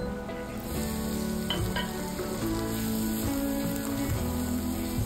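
Chicken cooks in a pan with about half a cup of added water, giving a steady bubbling sizzle, fairly quiet and continuous, with a faint tonal hum running underneath.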